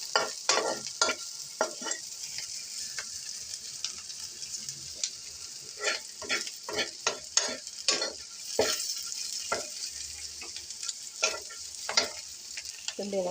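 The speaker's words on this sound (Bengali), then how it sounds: "এখানে আমি পেঁয়াজগুলো একটু লাল লাল করে ভেজে নিচ্ছি" Onions fry in a mix of ghee and oil, a bright hissing sizzle up close broken by frequent scraping stirs and light clicks of a spoon against the pan.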